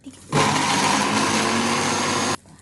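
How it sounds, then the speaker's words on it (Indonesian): A kitchen blender grinds fresh corn kernels into a smooth mash, a loud, steady whirring roar that runs for about two seconds and then cuts off abruptly. "Sekarang kita akan memblender jagungnya dulu ya"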